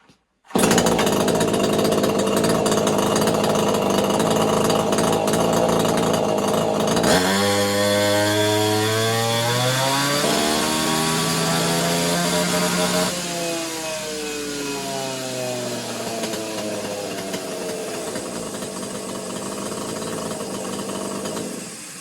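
A Neotec 843 43cc chainsaw, a Husqvarna 543XP clone with a modified exhaust and no tune, screams at full throttle, then its pitch sags and recovers as it bogs under load during a cut, loud and close throughout with no talking.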